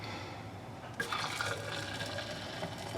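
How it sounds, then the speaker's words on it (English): Hot water poured from a kettle, starting abruptly after a quiet moment and continuing as a steady splashing stream close up. "Put some hot water on that, okay?"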